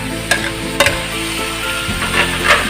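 Vegetables including string beans and okra stirred in a pot of simmering ginataan, with steady sizzling and a few sharp scraping knocks of the spoon against the pot.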